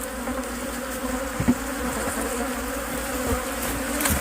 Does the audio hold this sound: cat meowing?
no